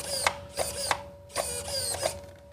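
A part on a Traxxas TRX4M RC crawler rubs as it turns, giving repeated whirring, ratcheting bursts with a steady whine underneath, several grinding pulses in a short, close stretch.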